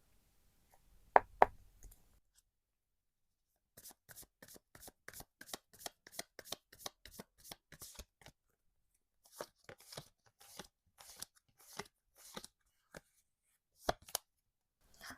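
Tarot cards are shuffled by hand in close, crisp bursts of rapid flicking riffles separated by short pauses, with a few soft taps at the start.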